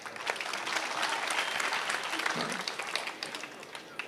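An audience at a Marathi kirtan claps together, a dense burst of applause that swells and then thins over a few seconds, with faint voices mixed in.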